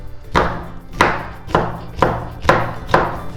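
Knife chopping green beans into chunks on a cutting board for savory oats upma, six sharp evenly spaced chops, close and clear with no talk.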